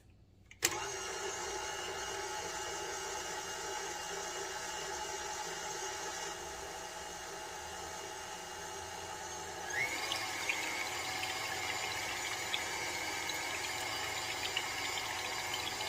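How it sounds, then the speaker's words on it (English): An electric mixer whisks two cups of heavy cream for meringue filling, a steady, fairly quiet motor whir with a faint liquid swish that steps up in speed about two-thirds of the way through. "So I'm going in with 2 cups of heavy cream. And we're just going to start to whisk,"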